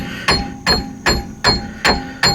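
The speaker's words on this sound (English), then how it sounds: "take this hammer and kind of free that axle up just a little bit" A hammer strikes the axle of a Subaru Forester during a wheel bearing replacement, giving six sharp metallic hits at an even, steady rhythm, close and loud with a short ring after each blow.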